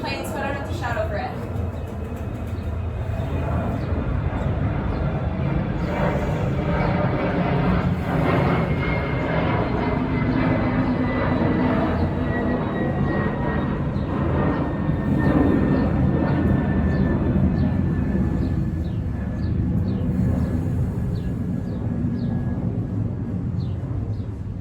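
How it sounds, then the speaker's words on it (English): A fixed-wing airplane passes overhead during an outdoor workout, a long broad roar that swells and holds for many seconds, with a faint descending whine; no talk over it. "I'm just gonna wait for the plane so I don't have to shout over it."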